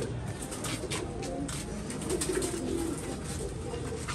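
Pigeons kept for flying coo softly and repeatedly in a low murmur, close by, with steady background noise and no talk.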